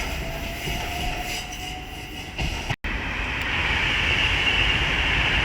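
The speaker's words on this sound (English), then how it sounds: "the London Northwestern Railway service from Milton Keynes Central to London Euston passing" A London Northwestern Railway service from Milton Keynes Central to London Euston passes through Willesden Junction on the West Coast Main Line, a steady loud rumble of rolling wheels with a brief dropout, then continuing louder.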